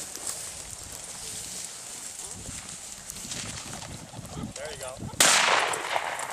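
One sharp, loud shotgun blast goes off near the end of an outdoor opening-day pheasant hunt in Wisconsin, after several seconds of quiet field ambience and faint rustling.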